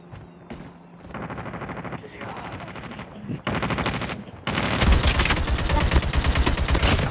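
Loud AK assault rifle fire in the mobile shooter Call of Duty Mobile: short bursts at first, building into a dense, sustained automatic barrage near the end, mixed with other game sounds.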